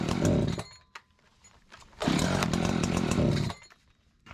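An Echo CS-590 Timberwolf chainsaw with a fault where it starts but dies when the trigger is touched, roaring briefly, cutting out, then firing up again for about a second and a half before dying once more.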